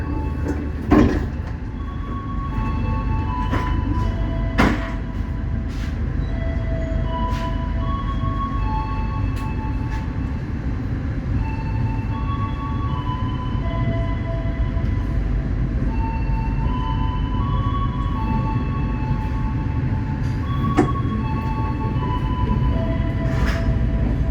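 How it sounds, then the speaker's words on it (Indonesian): Inside the Taksaka passenger train after it leaves Cirebon, a steady cabin rumble carries on throughout, with faint tonal whines drifting in and out and a few scattered clicks and knocks, and no one speaking. "kereta api Taksaka melanjutkan perjalanannya dari stasiun Cirebon ke Jaksan"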